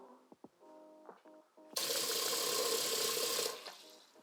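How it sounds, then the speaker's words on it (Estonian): Cold tap water gushes loudly into a cooking pot over cut meat, a steady rushing pour lasting under two seconds, preceded by small clinks and handling noises in a kitchen. "paneme peale vee ja kindlasti peab olema külm vesi"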